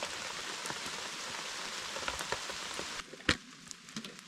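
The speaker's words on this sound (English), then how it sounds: "I hope this rain keeps up when I'm sleeping." Steady rain patters on surfaces outdoors in off-grid Alaska, a dense continuous hiss for about three seconds, then thinning to scattered drops with one sharp close tap.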